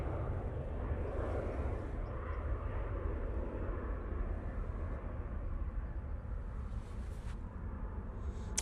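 Plane taking off from a runway at Manchester Airport, a steady, distant low roar of jet engines that holds evenly throughout without talking.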